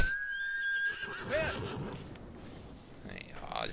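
A horse in the video game Ghost of Tsushima neighs, a high whinny standing out near the start, followed by softer snorts and hoof sounds, with someone talking over it.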